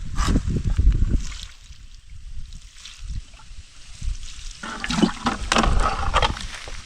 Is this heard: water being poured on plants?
yes